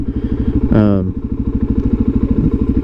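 A Suzuki DRZ400SM supermoto motorcycle runs steadily nearby with a loud, pulsing single-cylinder thump throughout, while someone talks briefly over the engine.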